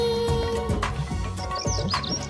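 Sparrow chirping in short, bright tweets scattered over a busy backdrop of music, a few distinct calls standing out near the end.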